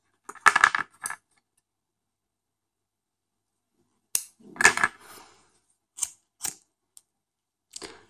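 Scissors snipping crochet thread during needle lace flower work, a few short crisp cuts up close in an otherwise quiet room, with scattered small clicks and taps between them.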